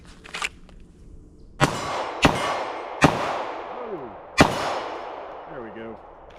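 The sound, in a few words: gunshots fired at steel targets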